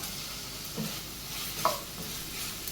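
Paneer cubes and sliced onions frying in a pan for palak rice, giving a steady broadband sizzle throughout with a couple of brief scraping stirs of a spoon against the pan.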